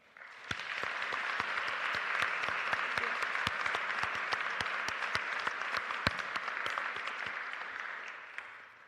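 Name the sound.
audience applause for inductees at a ceremony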